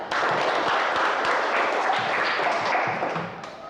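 Students in a classroom clap for a group that has just finished presenting, a busy patter of many hands holding steady before tapering off near the end.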